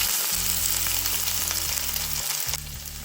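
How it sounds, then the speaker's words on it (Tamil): Chopped onions frying in hot oil with fennel seeds, a loud continuous sizzle close up, with a low hum underneath. "வெட்டி வச்ச வெங்காயத்தை சேர்க்குறேன்"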